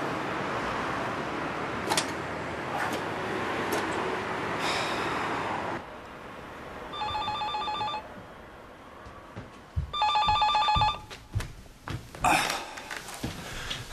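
Telephone ringing in two bursts of electronic trilling, a few seconds apart, after a stretch of muffled room noise; fairly close and clear, with no talk over the rings.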